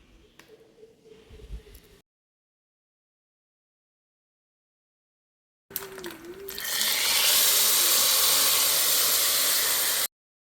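Mustard seeds and curry leaves hit hot coconut oil for a Konkani tempering, bursting into a loud, close sizzle that swells and then holds as a steady, bright hiss after a brief quiet gap.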